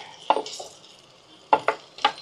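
Bitter gourd pieces tipped into a pan with turmeric and stirred, a few sharp metallic clinks and scrapes of a spoon against the pan in two short clusters, over faint sizzling.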